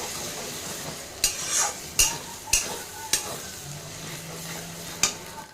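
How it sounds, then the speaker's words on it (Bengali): Spice masala for a village-style chicken curry sizzles in a pan under a steady frying hiss, punctuated by about six sharp clanks of a spatula against the metal as it is stirred, close and with no voices. "তো মশলাটাকে এবার একটু ভালো করে কষিয়ে নিতে হবে"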